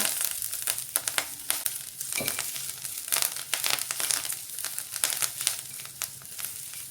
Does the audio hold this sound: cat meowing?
no